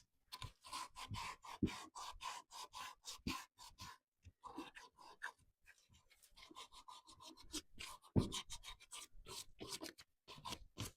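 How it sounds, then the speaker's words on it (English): Wooden furniture legs are hand sanded, a quiet, close rhythmic rasping of back-and-forth strokes with brief pauses between passes. "I can't take the power sander on the legs, so I need to hand sand those."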